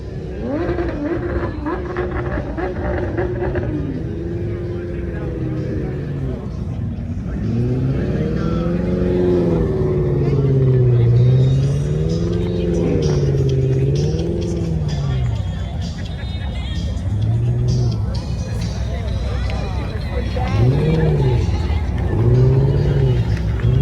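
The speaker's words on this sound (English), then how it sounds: "It's another Aventador." A Lamborghini Aventador engine rumbles and revs in rising and falling swells at a Toys for Tots gathering, close by and loud, with people talking over it throughout.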